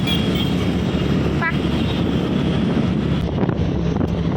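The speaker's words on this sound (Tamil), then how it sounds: "காற்று பயங்கரமாக அடிக்குது" Loud, continuous wind roars across the microphone, rumbling and gusting steadily, with a faint brief tonal sound partway through.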